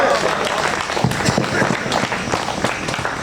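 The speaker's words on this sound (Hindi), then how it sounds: "ऊपर हाथ उठा के आशीर्वाद ताली का दे दो।" Applause from an audience at a Hindi patriotic poetry recital, dense and continuous clapping spread across the whole stretch at fairly steady loudness, with crowd noise mixed in.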